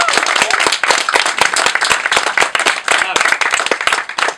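Wedding guests applaud the couple, a dense run of sharp hand claps at close range, loud and continuous, with a brief spoken word at the start.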